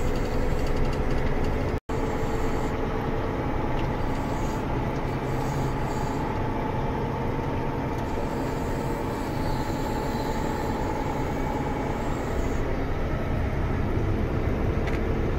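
A tractor drives through a field with a steady, loud engine drone and rumble that runs unbroken throughout, with a brief dropout near the start.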